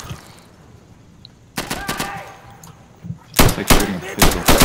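Gunfire in the tactical shooter Insurgency: a tight burst of rapid shots, then a longer louder volley of cracking rounds, close and sharp over faint background noise.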